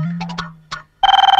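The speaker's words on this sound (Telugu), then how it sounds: "ఫోన్ మా ఇంటి నుంచి అనుకుంటా" A telephone starts ringing in a home after a few short voice-like sounds. The ring is a fast, pulsing electronic trill, close and clear, that keeps going to the end.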